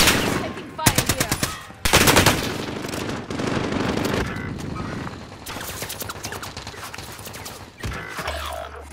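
Bursts of automatic machine-gun fire in a military shooter video game, loud rapid rattling volleys with short pauses between them and sustained gunfire throughout the clip.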